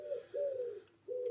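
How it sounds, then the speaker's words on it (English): Pigeons on a roof give soft, low cooing calls, three drawn-out hums in a slow rhythm, close and clear over a quiet background, with no voices. "You can hear my pigeons on my roof as well."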